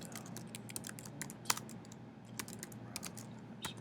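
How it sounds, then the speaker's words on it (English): Rapid computer keyboard typing while entering network route commands, a steady run of quick, fairly soft clicks with a few sharper keystrokes standing out, close by and with no talking. "I will type in the commands route"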